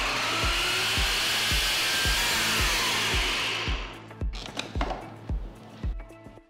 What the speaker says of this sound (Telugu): ఆ తర్వాత వేయించిన వేరుశనగల పప్పుల్ని వేసి ఒక్కసారి బ్లెండ్ చేయాలి.